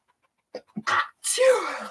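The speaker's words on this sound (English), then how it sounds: "I have a sneeze coming." A single close sneeze, with a sharp intake of breath followed by a loud burst that trails off into a voiced tail.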